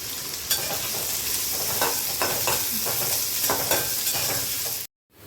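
Onion and chilli fry in oil while being stirred, a constant close sizzle broken by scraping utensil strokes, cutting off abruptly just before the end.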